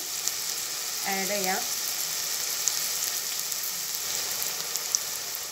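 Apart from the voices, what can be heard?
onion frying in pan until light brown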